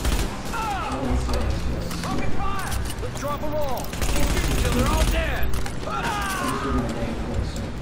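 Gunfire in The Division rattles in repeated bursts through a busy firefight, with mechanical clicks mixed in and people talking over the shooting throughout.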